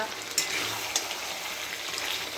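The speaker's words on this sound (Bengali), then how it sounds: "মাংস রান্না হচ্ছে, কষা হচ্ছে মাংসটা।" Chicken is braised and stir-fried in a pan, giving a steady close sizzle with occasional stirring scrapes.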